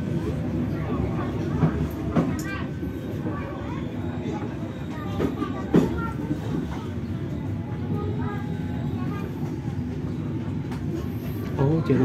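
A train rolls in on a newly built double-track line between Kiaracondong and Gedebage, a steady low rumble of wheels and cars passing close by with a few sharp clanks, and speech faintly mixed in.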